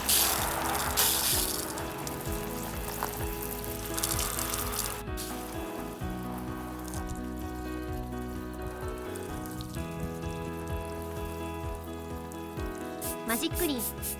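A shower hose sprays water over a mud-caked Honda Today AF61 scooter at an open-air car wash, a steady hissing, splattering wash running throughout, with a voice now and then.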